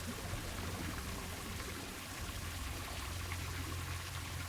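Water rises in a cave in the video game Trüberbrook, a dense, steady rush and gurgle that fills the scene at an even level without pause or voices.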